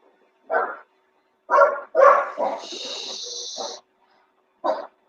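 Dogs bark indoors in a quiet room, a few separate close barks with a short whining yelp in between, then one more bark after a pause, loud against silence.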